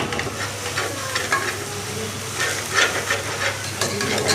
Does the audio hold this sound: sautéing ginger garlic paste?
yes